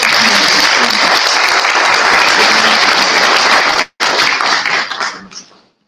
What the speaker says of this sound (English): Give him a hand and clap.